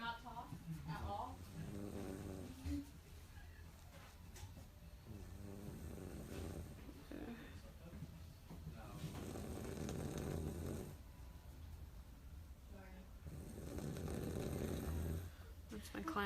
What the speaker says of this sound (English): That's my client snoring.